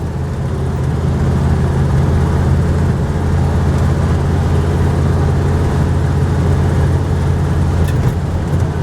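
The engine of an original pickup truck hums steadily in fourth gear while cruising, a loud constant low drone heard from inside the cab for the whole stretch, with faint road and wind noise and no talk.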